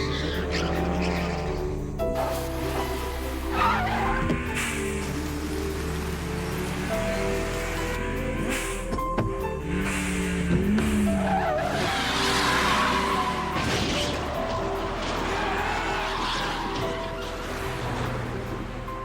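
A Nissan S13 races downhill on a mountain road with a steady engine drone, and its tires squeal as it corners; the noise is dense and continuous, with a rising, wailing squeal near the middle.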